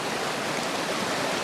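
Muddy floodwater rushing through a ravine, a steady, loud, dense roar of flowing water that holds constant throughout with no voices.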